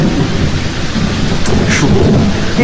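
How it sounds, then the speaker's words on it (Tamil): A heavy outdoor downpour roars steadily while thunder rumbles close and loud throughout the storm. "பெருமழையா வருது, நம்ம ஓரமா போயிடலாமா?"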